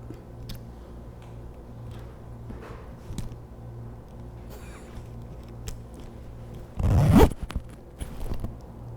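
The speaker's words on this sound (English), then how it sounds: "pull up and zip." A clothing zipper is pulled up with a hook-style zipper pull, giving one short, loud rasping zip near the end amid quiet room noise.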